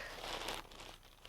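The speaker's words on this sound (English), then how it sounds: "Now you start with a piece of newspaper, or a couple of pieces actually, and crumple it into a nice" Newspaper crumpled by hand for mask making: continuous crinkling and rustling, close and fairly quiet, with dense crackles that ease off toward the end.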